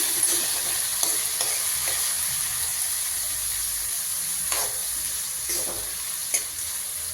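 Tomatoes fry and sizzle steadily in a hot pan for a quick karamani palya, with soft stirring scrapes and occasional clinks of the spoon against the pan, close and continuous with no voices.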